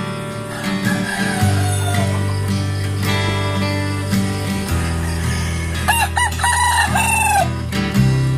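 Native chickens and Rhode Island Reds in a free-range area, with roosters crowing repeatedly, long drawn-out calls overlapping, and hens clucking in between, close and loud throughout.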